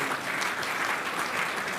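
Steady applause from a rally crowd at a Delhi contract electricity workers' protest, a dense wash of clapping heard from some distance throughout, with no voices over it.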